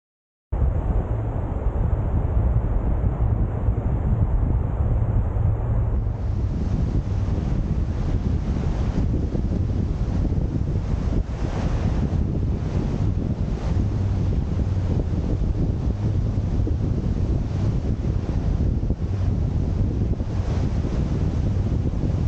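Strong, cold wind buffeting the microphone on the beach at Borth, a constant roaring gust with surf washing underneath, continuous and loud throughout with no voices.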